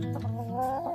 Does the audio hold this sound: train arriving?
no